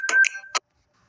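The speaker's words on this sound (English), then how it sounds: "Excuse the incoming phone call." A short electronic phone tone, a few quick chirping bursts over a steady pitch, then silence.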